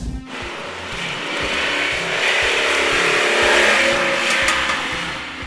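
A 1985 Lamborghini Jalpa on the move, its engine droning loud and close with a rhythmic throb that swells as it climbs under throttle and then eases slightly, heard without any voices.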